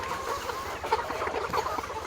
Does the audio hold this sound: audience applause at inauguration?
no